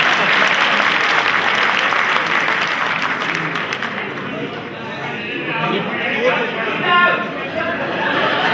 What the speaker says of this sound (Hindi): सलमान अतर साहब, ज़रा तालियां बजाने में फैयाजी दिखाइए।